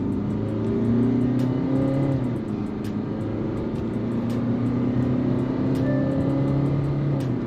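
Hyundai Alcazar engine pulling uphill, heard from inside the cabin as a steady, moderately loud drone that rises and dips in pitch with road noise mixed in, no talking.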